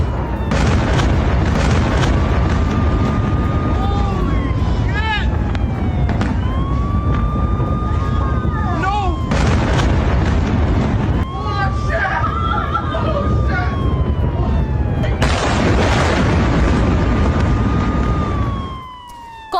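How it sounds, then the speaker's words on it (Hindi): Iranian missile attack on Tel Aviv: deep booms and blasts burst out between rising and falling air-raid siren wails, over a steady background of crowd voices and street noise. "ये देखिए तस्वीरें, तेल अवीव पर ईरान का मिसाइल अटैक"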